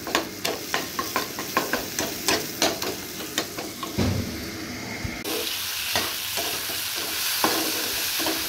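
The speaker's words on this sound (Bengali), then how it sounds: "এখন মশলাটা ভালো করে কষিয়ে নিচ্ছি।" Spice paste for Bengali egg curry fried in a pan while a spatula scrapes and stirs in quick regular strokes, a steady sizzle underneath that turns to a rougher, denser frying hiss partway through; no talking.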